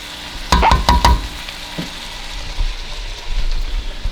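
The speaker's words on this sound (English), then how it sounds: "It's got the celery, the onions, the garlic. Gonna mix this around until it cooks down." Celery, onions and garlic stirred in a hot pan, with a few quick scraping strokes near the start over a steady close sizzle that carries on quietly with occasional light clatter.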